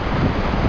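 Wind blows in from the sea on a Latvian shore, buffeting the microphone with a loud, continuous low rumble that lasts the whole brief moment, with no talking.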